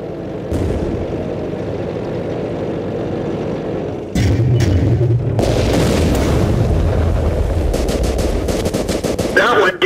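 Tank cannon fire and impacts in World of Tanks from a Pz.Kpfw. II Ausf. J, loud booming shots and crashing hits that swell partway through, amid steady engine rumble and game voice callouts.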